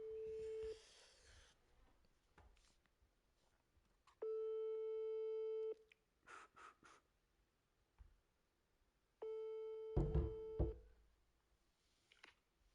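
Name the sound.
telephone call ringing out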